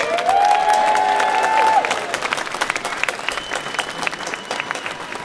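Outdoor crowd at a Christmas carol concert in a town square claps loudly for Gemma, with brief cheering and a held musical tone early, the applause thinning and scattering toward the end.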